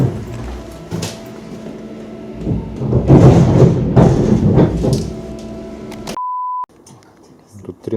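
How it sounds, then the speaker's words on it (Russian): Rumbling and clanking of a Russian passenger train slowing to a stop between stations, with voices underneath, then a short bleeping tone and a quieter background. "В 21:22 поезд останавливается прямо на перегоне."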